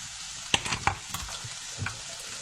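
Corn browning in a pan, soft frying sizzle broken by a few sharp scraping stirs and clicks, quiet and close with no talking.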